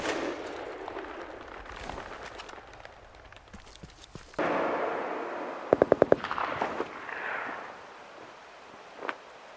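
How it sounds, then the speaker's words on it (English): Distant gunshots echo through an open video-game world, with scattered faint reports early on, then a tight burst of several sharp cracks followed by rolling echoes and a last lone shot, all without voices. "Here you can hear a couple of examples of the gunshot audio and how far away it is"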